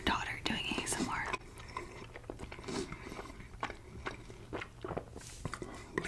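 Close, crunchy chewing of bacon at an ASMR mukbang, with repeated bites and mastication sounds near the microphone, accompanied by soft whispering.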